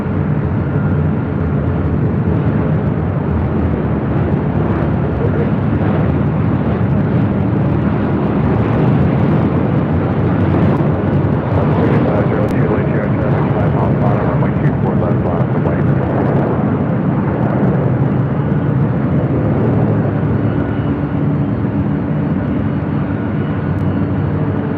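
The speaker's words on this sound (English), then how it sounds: "Next arrival is Delta Airlines flight 2317 coming up from Salt Lake City." A Delta Airlines Boeing 737-900ER from Salt Lake City arrives at LAX, a loud sustained jet roar that stays strong and close throughout, with a voice speaking underneath.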